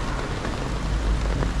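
Heavy rain falls close by over a planted garden, a dense low roar with a rumbling undertone, steady and loud for the brief moment.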